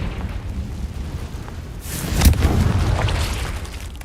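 A Confringo blasting spell goes off in the Hogwarts Legacy video game, a single loud explosive burst with a sharp crack that leaves a rumbling roar fading over a few seconds, alone with no talk.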